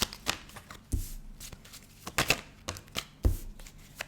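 Tarot cards handled and drawn from a deck up close: a run of crisp riffling flicks and soft slaps in irregular bursts, with no voice over them.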